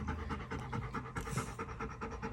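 A dog pants steadily and rapidly at close range, a continuous rhythmic huffing with no talking over it.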